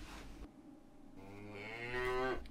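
A cow moos in the video game The Whispered World, a single long, drawn-out low moo rising in pitch toward the end, heard alone and close.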